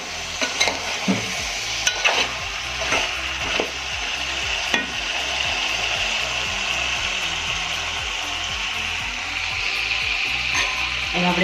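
Ridge gourd sabzi, Gujarati style, stirred in a pan without water: rhythmic scraping and knocking of a spoon against the pan over a continuous close sizzle, the stirring strokes thinning out as the frying carries on alone.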